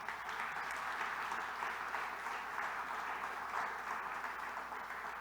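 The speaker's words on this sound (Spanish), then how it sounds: "Dale un aplauso al Señor" A church congregation applauds at a sermon, a steady, even wash of many hands clapping that holds for several seconds, moderately distant, with no speech over it.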